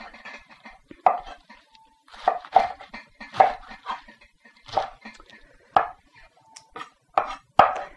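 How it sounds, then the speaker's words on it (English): Sharp knife strikes on a cutting board chopping a bunch of greens, irregular and spaced out, each a brief crisp knock, close by with no talking. "So I'm just going to chop up the greens"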